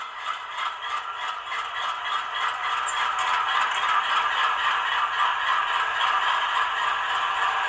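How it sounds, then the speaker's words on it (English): Engine hood door effect from the sound decoder of a ScaleTrains HO scale AC4400CW model locomotive, heard as a rapid, repeating metallic rattle with a steady mechanical hum underneath throughout. "'23's engine hood door."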